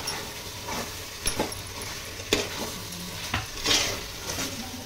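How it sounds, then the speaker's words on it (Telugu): Chili powder being stirred into biryani masala for an Andhra-style chicken biryani, with a steady low sizzle under several distinct scraping strokes of a spoon against the pot, spaced about a second apart. "వేసిన తర్వాత బాగా మిక్స్ చేసుకోవాలి."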